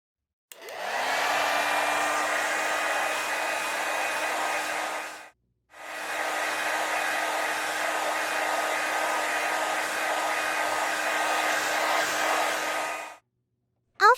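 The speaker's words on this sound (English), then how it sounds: "Let's blow dry and style it." A hair dryer blows steadily and loudly, running about five seconds, cutting off briefly, then running again for another seven seconds before stopping, during a toy Minnie Mouse pink airplane playset styling scene.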